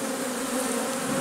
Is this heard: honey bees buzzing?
yes